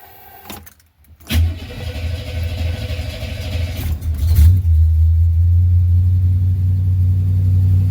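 A 1968 C3 Corvette engine starts with a brief crank, then catches and settles into a loud, deep, steady high-idle rumble close by.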